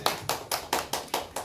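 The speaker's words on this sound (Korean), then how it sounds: "박수 한번 주십시오." An audience claps in a brief, rhythmic burst of about seven evenly spaced, unison claps, moderately loud and close, with no voices over it.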